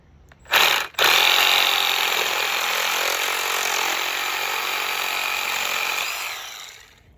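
A power saw cutting through a pool pump's plastic suction pipe in a tight space, with a brief start burst and then a steady, loud, close whine that fades off near the end.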